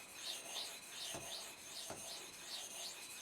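A Spyderco M4 Manix 2 knife blade is sharpened on a 1200 whetstone, giving steady rhythmic rubbing strokes back and forth, close and moderately loud, with a soft scraping hiss on each pass.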